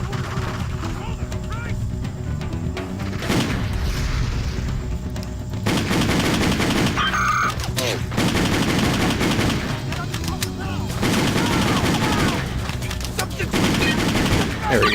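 Rapid gunfire in the video game Just Cause, with loud sustained bursts of automatic fire in several stretches separated by short lulls, and someone talking throughout.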